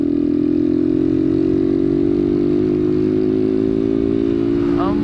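A delivery motorcycle carrying food orders accelerates with a steady, loud engine drone that rises slightly in pitch, heard close up from the rider's position throughout.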